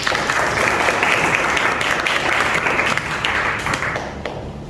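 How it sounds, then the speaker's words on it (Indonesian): Students in a classroom break into a lively round of applause, steady dense clapping filling most of the stretch before thinning and fading toward the end. "Oke, tepuk tangan dong buat kalian."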